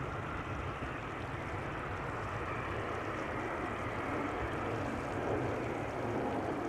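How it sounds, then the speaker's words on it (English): A KLM Embraer jet taking off from Amsterdam Schiphol, a steady, broad engine roar that holds loud and even throughout with no voices. "The European KLM Embraer fleet taking to the sky"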